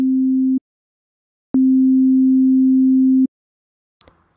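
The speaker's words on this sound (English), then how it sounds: "when I play these two sine waves that sound exactly the same" A pure sine tone sounds loud and steady, twice, first briefly and then for longer, with clean abrupt starts and stops, followed by a faint click.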